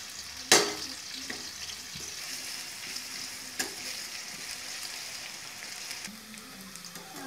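Chopped onions sizzle in hot oil while they brown, a steady, moderate crackle with a sharp utensil knock near the start and another clack partway through.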